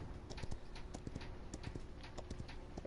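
A horse mount's hooves clip-clop steadily in the Paladins video game, a quiet, regular gallop of soft thuds with faint background game ambience.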